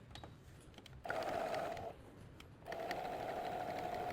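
Sewing machine topstitching a seam on trousers runs in two steady bursts separated by a short pause, close and clear against a quiet room.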